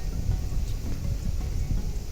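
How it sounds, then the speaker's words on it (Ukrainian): Continuous low rumbling gusts of strong wind buffeting nearby while fishing outdoors, loud and steady throughout. "Вітер сильніший став."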